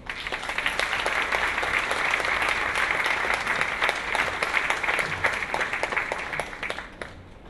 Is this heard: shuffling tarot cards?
no